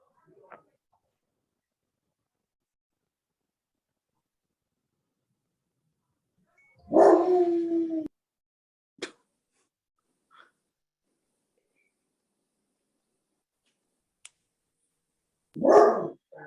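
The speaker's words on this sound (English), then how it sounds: "that's my dog in the background" A dog barks once nearby, then stays quiet except for a few faint clicks, before another short bark or gruff vocalization near the end.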